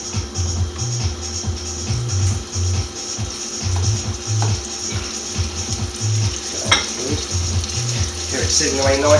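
Seafood, including squid with tentacles, sizzles steadily in a hot pan for a seafood pasta, a continuous close frying hiss with a faint repeating rattle underneath.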